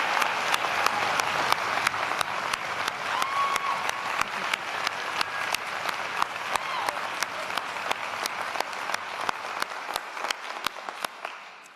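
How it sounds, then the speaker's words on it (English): A convocation audience gives a sustained round of applause in a large hall, dense steady clapping that continues throughout with no talk over it. "So I want to give you a round of applause, just out of the blue, not in the program"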